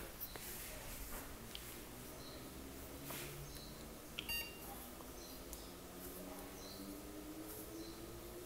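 A desktop computer with an Intel Atom D525 board and a newly fitted SSD powers on to boot Windows 7: a steady fan hum runs throughout, with a single short electronic beep about halfway through.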